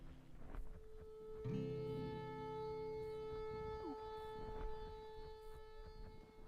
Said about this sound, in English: it's likely just a malfunctioning tornado siren, like this